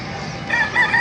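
Roosters at a Friday chicken market in Bocaue, Bulacan, with crowing calls rising in the second half over a busy crowd murmur; the birds sound moderately close but not isolated.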